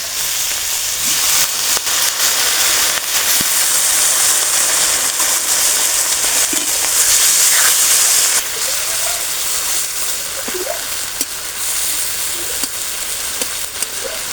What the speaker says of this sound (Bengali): শাপলা ডাঁটা আমি তেল দিয়ে ভাজিয়ে নিয়েছি, আর অল্প একটু জল দিয়েছি, অল্প জলেতে রান্না করব